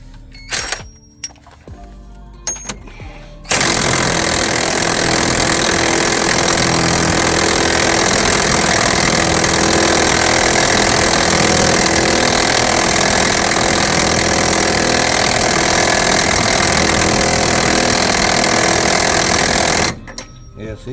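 A power tool snugs a new wheel hub bolt on a 2006-2010 Jeep Grand Cherokee, running as one loud, continuous buzzing rattle of about sixteen seconds after brief clicks and handling sounds, then stopping abruptly.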